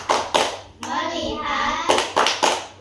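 A class of children claps through the 'tepuk fokus' routine: two sharp claps, then a stretch of chanted voices, then a further run of claps, all close and lively in a classroom.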